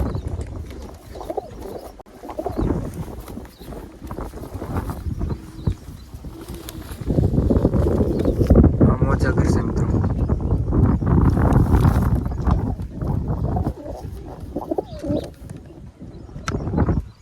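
Pigeons coo repeatedly close by, soft throaty calls continuing throughout as someone speaks briefly.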